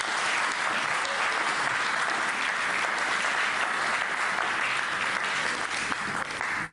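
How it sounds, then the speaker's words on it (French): A studio audience at a televised debate applauds steadily and loudly, a dense continuous wash of clapping filling the room for several seconds before it cuts off abruptly. "on peut applaudir quand même"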